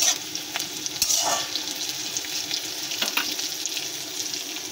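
Onions frying in a pan until reddish, a close continuous sizzle with occasional stirring scrapes and small pops, no voices.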